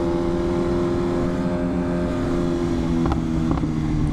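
BMW S1000RR motorcycle engine running steadily with a loud, sustained drone near the mic, a couple of brief sharp crackles near the end like exhaust pops.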